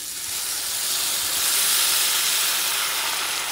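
Beer poured into a hot pan of browned, caramelized steak for fajitas bursts into a loud, continuous hissing sizzle that swells slightly and holds steady, with no talking.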